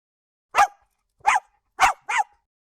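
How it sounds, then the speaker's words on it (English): A small dog barks four sharp, close times: two barks spaced apart, then a quick pair, each clear against silence. "he heard, from the lower room, the unmistakable sound of a small dog announcing itself"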